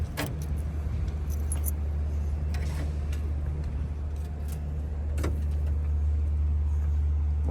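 Keys jangle and click at the trunk lock of a 1976 Pontiac Grand Prix Model J, a few light metallic rattles close by over a low steady background hum.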